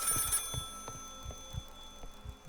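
A telephone rings quietly in the horror video game Maid of Sker, a faint metallic ringing tone with soft ticking and clicking under it.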